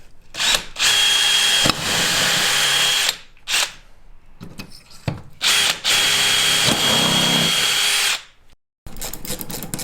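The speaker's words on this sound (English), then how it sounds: "and drill the rest of the way through." A power drill bores holes for a Rhino Rack Backbone system on a Jeep Gladiator in loud, close bursts of whining motor, several separate runs of a few seconds each, with brief pauses between them and no talk.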